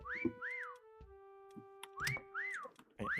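A shrill video-game whistle sounds in short swooping chirps, a long steady tone between them, then more chirps, loud and close.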